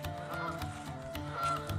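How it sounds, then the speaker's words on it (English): Geese honking on the shore of Tamarack Lake, an ancient kettle hole lake, a dense overlapping chorus of harsh nasal calls, steady and fairly close, with no voices. "Looks like these geese aren't happy to see me."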